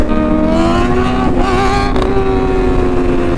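A motorcycle engine revs hard and holds a high, steady tone during a power wheelie, loud and close, with pitch wavering as the throttle shifts.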